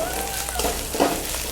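Kashmiri chili powder hitting hot oil in a pan, a steady close crackling sizzle with a brief stir around the middle, no talk.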